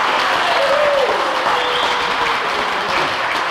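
Steady, dense applause from a crowd at the opening of an ice rink, loud and continuous throughout with a voice audible faintly in the background.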